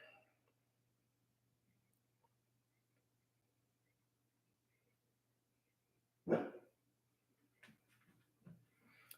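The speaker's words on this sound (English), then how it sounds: "are you guys done barking?" Dogs barking nearby after a long quiet stretch, one loud bark followed by several softer yaps spread over a few seconds.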